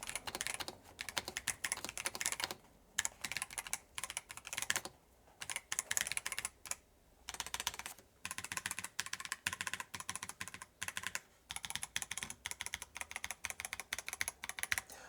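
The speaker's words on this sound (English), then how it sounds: "this really does sound like a high-end mechanical keyboard" Rapid, continuous clacking of a Razer BlackWidow Pro 75 V4 mechanical keyboard, typed in quick bursts with brief pauses, close and crisp throughout.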